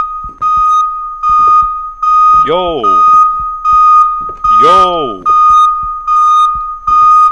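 Fire alarm in the video game Minds Eyes, a loud, steady high-pitched beep repeating in even pulses about once per second, with someone shouting twice over it.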